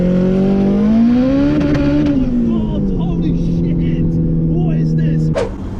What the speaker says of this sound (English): So when you get an ignition cut, it just pops and bangs.